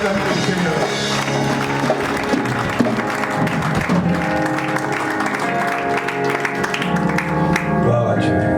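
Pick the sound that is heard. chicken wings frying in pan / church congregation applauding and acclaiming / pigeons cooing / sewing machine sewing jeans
church congregation applauding and acclaiming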